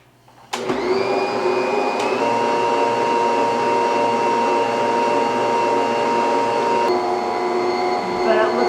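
A bread maker kneading whole wheat bread dough runs as a loud, steady motor whine with a constant tonal hum, starting abruptly after a brief quiet moment and droning on evenly.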